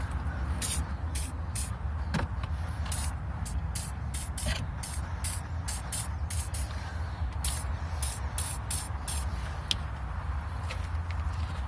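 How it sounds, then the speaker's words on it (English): WD-40 lubricant sprayed from an aerosol can onto Tegiwa shifter bushes on a Civic Type R EP3, a series of short, loud hissing bursts repeating over a steady low background rumble. "Let's see if our good old friend WD-40 can help."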